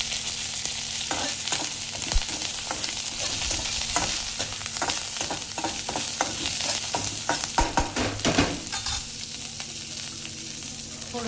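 Garlic frying in a hot pan for rasam, with a loud continuous sizzle and intermittent stirring scrapes throughout, heard alone without any talking.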